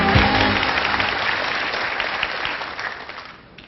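A lecture-hall audience claps warmly as a speaker is brought up to give a talk, dense sustained applause that slowly thins and fades toward the end.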